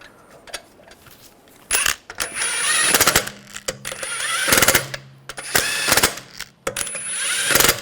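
Lug bolts being run in on the rear wheel of a 2009-2010 BMW 535i xDrive: repeated short bursts of tool whirring and metallic clatter, close and fairly loud, separated by brief pauses.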